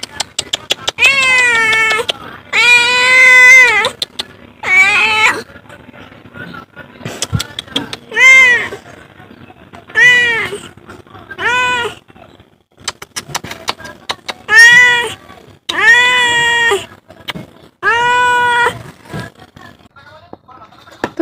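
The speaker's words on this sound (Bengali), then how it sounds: "বিড়ালটাও ডাকছে, ওকে খিদে লেগেছে।" A hungry cat meows repeatedly in a home kitchen, with a dozen or so drawn-out, rising and falling calls in separate bursts, fairly close and loud, with brief gaps of quiet between them.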